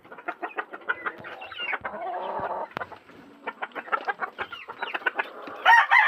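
Chickens and young chicks cluck and peep nearby in a run of quick, close calls with short pauses, interrupted by a brief squawk.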